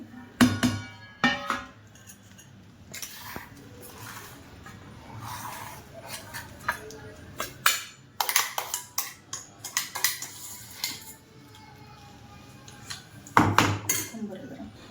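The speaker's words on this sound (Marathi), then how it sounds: "आता आपण हे एका भांड्यात काढून घ्यायचंय." Metal spoon scrapes and knocks against a pot and bowl in irregular bursts while stuffed bitter gourd curry is spooned out, with several sharp clinks and pauses between scoops.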